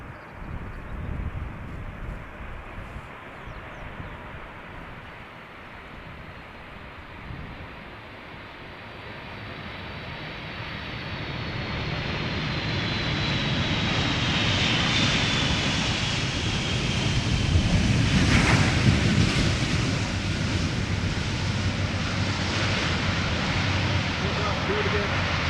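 A Boeing 747 arriving from Nairobi approaches Amsterdam Schiphol Airport, its jet engines rising from a distant roar to a loud, broad rush as it passes close, with wind buffeting throughout.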